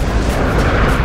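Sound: artillery explosion in Rising Storm/Red Orchestra 2 video game

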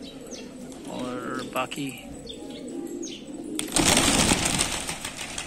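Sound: pigeons flapping wings in loft

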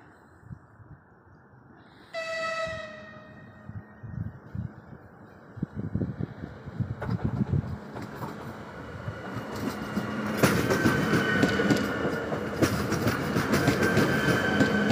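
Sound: passenger train arriving at station

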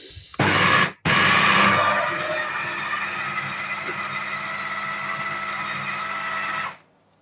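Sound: blender blending fried sulphur shelf mushroom

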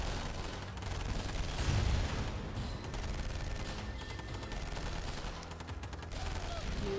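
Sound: gunfire attacking base in Command & Conquer video game

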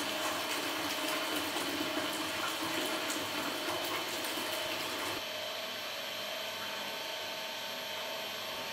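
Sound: Lilliput 2.0 ice cream machine dispensing water into a jug

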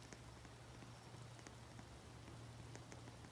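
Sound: rain falling in a video game

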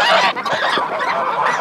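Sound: three-month-old Tula breed gosling honking

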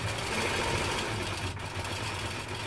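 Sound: Nolting Pro-Series longarm quilting machine stitching quilt binding

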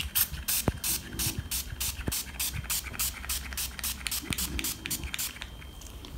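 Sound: spray bottle spraying

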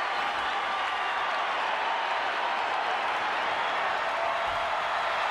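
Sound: crowd applauding in WWE 2K20 video game

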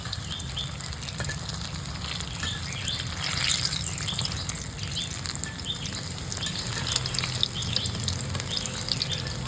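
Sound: frying chops made with puffed rice in oil

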